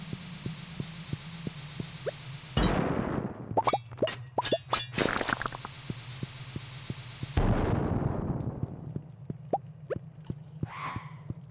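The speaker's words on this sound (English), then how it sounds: "Let's just blow up all this shit." Bombs go off in the farming video game Stardew Valley: two loud booming blasts several seconds apart, with quick crackling bursts between them, over a steady background game hum with no talking.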